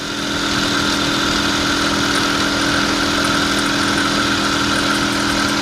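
An IZh Planeta 5 motorcycle engine runs steadily and loudly up close during a test ride after repairs, a continuous buzzing drone with no voices.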